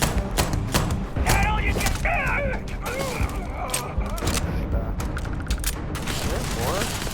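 Bursts of gunfire in Starfield, a quick sequence of sharp shots during combat, mixed with creaking mechanical sounds and a brief spoken voice.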